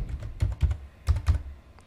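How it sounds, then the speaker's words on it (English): Keys tapped on a computer keyboard to enter a password during a Linux install, a short run of soft, uneven clicks heard up close, with no voices. "type your computer password, hit enter."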